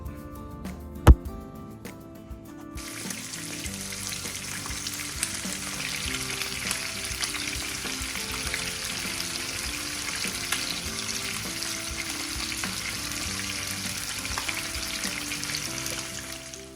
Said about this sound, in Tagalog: Prito lang natin para mabilis.